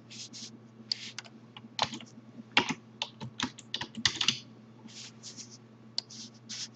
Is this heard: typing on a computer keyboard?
yes